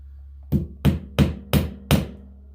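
Five sharp hammer blows strike a trophy buck mounting kit in an even rhythm about a third of a second apart, close and loud over a low steady hum.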